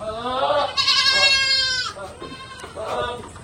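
Goats bleat in the farming video game Farming Simulator 22, with a couple of close, drawn-out wavering cries in quick succession, one loud bleat in the middle, over a faint background.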